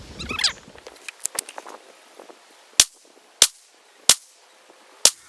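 Four sharp, loud reports from a Walther CCP M2 .380 pistol fired from a bench at 25 yards outdoors, spaced about a second apart after a burst of quieter rustling and clicks.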